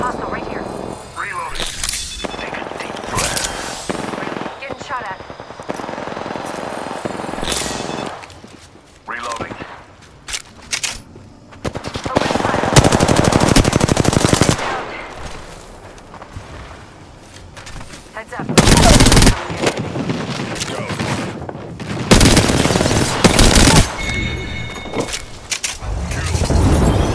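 Gunfire in the battle royale shooter Apex Legends, with repeated loud bursts of shots and heavy impacts coming in waves across a busy firefight, and game sounds layered throughout.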